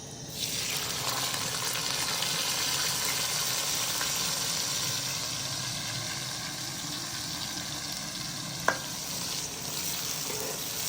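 Food sizzles and fries steadily in hot ghee, a close, continuous crackling hiss with one sharp clink near the end.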